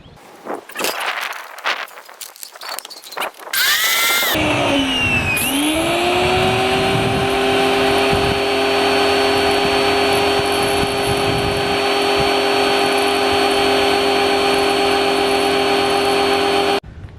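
A Parkside PHD170 B2 high-pressure washer for washing a car, drawing its water from a can, whines up after a few seconds of clatter and then runs as a loud, steady motor drone with a high tonal hum until the end.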